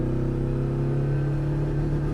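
A small 600cc rear-engine, rear-wheel-drive car revving hard against its 4,000 RPM rev limiter, a loud steady buzzing drone held close with no voices over it.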